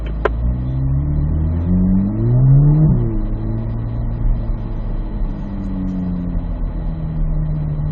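A car accelerates hard while driving a figure-8 course, its mid-pitched engine revving up with rising, sweeping tones that peak and fall as it turns, loud and steady with no voices.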